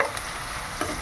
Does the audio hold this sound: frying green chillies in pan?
yes